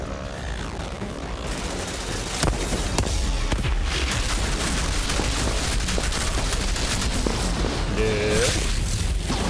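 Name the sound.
explosion in Outriders video game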